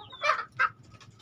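Breeding hens on a poultry farm give two short clucks in quick succession, quiet and fairly close, followed by faint scratchy background noise.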